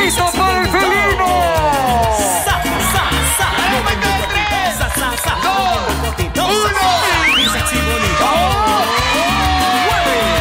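A loud crowd at a live evening show for a cat cheers, whoops and shouts continuously, with overlapping yells and excited voices blending into a dense roar.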